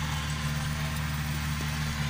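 Hand tractor working farmland to loosen soil for planting, a steady mid-low engine drone with a constant rhythmic throb, even and continuous, heard at a moderate distance without speech.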